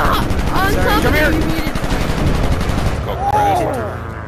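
Gunfire from war planes in an online combat flight video game rattles in loud, rapid machine-gun bursts, nearly continuous, with whistling engine and projectile sweeps and a player's voice shouting over the action.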